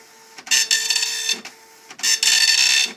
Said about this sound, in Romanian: ca să vedem cum tipărește această imprimantă matricială